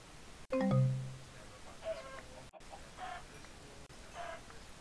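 Chicken clucking in Minecraft, a short burst of low clucks followed by a few fainter clucks spaced apart, with brief silent dropouts between them.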